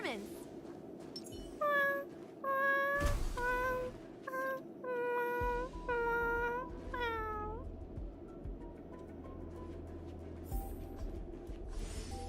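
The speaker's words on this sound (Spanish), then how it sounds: "Mira, más gatos. Más gatos." Cats meow repeatedly in the video game Honkai Star Rail, a series of clear mid-range meows in quick succession, with speech heard in the clip and a low background hum underneath.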